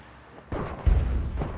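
Explosions in the video game Noita, a deep booming blast followed by rumbling, low-pitched detonations over roughly a second, heard alone without talking.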